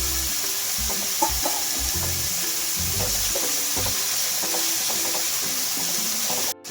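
Peas tipped into a hot pan of frying onions sizzle with a steady bright hiss, broken by soft stirring knocks and clatters, close by, before a sharp clunk at the end.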